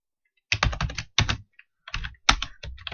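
Fast bursts of keystrokes on a computer keyboard while writing SDL2 code, clattering in three quick clusters separated by short pauses, close and crisp with no talking.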